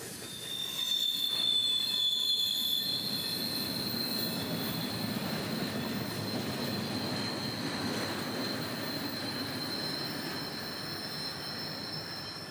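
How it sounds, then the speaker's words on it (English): A freight train with two EMD general purpose locomotives rounds a bend into town. Its wheels shriek in a thin, high, sustained squeal over a steady rumble and clatter of rolling cars at moderate distance. "L754 would round the bend into town with 2 EMD general purpose variants and a good train"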